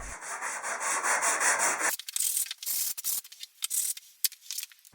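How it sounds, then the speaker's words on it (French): Wood pieces with router-chamfered edges are lightly sanded by hand. A continuous gritty whoosh is followed by short, uneven scuffing strokes, close and without talk. "Puis je ponce légèrement."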